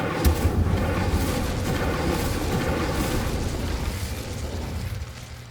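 An Incendio fire spell is cast in Hogwarts Legacy, giving a roaring, sustained fiery burst that stays loud throughout and tapers off slightly at the end, with no talk.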